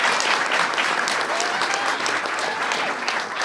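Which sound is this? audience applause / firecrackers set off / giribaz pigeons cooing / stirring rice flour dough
audience applause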